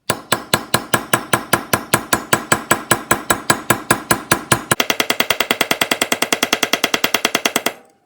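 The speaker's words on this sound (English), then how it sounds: "take the hammer and pound on your metal" A ball peen hammer pounds metal to texture it in sharp ringing strikes, steady at first, then quickening into a rapid, even rhythm before stopping.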